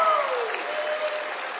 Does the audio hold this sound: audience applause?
yes